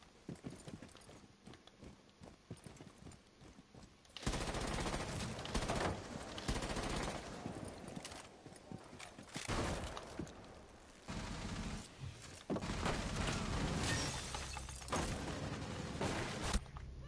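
Gunfire from the video game Rainbow Six Siege: after a few quieter seconds, dense rapid bursts and volleys of shots erupt and continue in loud, ragged waves.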